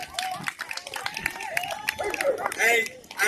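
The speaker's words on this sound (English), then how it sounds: "Please, all of you, give him a round of applause" A church congregation gives a round of applause, scattered clapping and murmuring voices swelling near the end, with a speaker talking over it.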